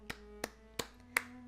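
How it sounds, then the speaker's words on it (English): Four slow, evenly spaced hand claps sound close and crisp, each one a sharp separate hit over a faint background hum, with no talking. "clap it up for that one."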